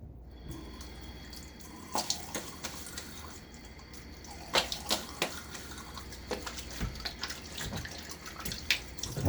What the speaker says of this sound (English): I'm able to rinse most of the soap off most of the lather off my face